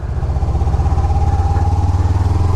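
A Kawasaki Ninja 300 motorcycle fitted with an aftermarket exhaust drones close by with a steady, buzzy, pulsing note, rising slightly in pitch mid-span, with no talk over it.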